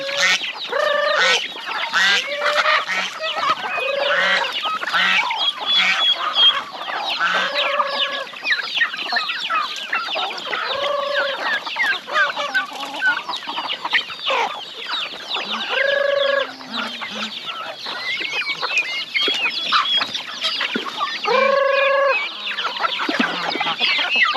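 Young turkeys and other poultry call at close range on a farm, with repeated clucks and chirping peeps overlapping throughout, joined by several louder rising calls at intervals.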